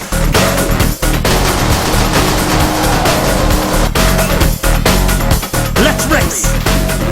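A race car engine in a 90s-style arcade racing game roars loud and continuous with shifting revs, broken by brief cuts and dips, and a squealing tone near the end.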